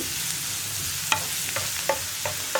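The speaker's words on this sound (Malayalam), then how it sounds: "ഇതെല്ലാം ചേർത്ത് ഒന്ന് നന്നായിട്ട് ഇളക്കി മിക്സ് ചെയ്യുക." Beans and potato masala sizzles gently in a pan, with a soft frying hiss and a few distinct scraping knocks of a spoon as it is stirred.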